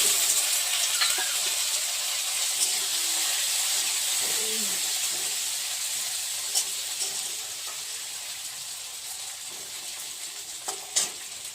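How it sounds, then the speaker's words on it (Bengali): Tomatoes tipped into a hot pan after something has been browned, giving a steady, moderately loud sizzle and hiss of steam with a few faint clinks of stirring. "এখন দিয়ে দিচ্ছি টমেটো।"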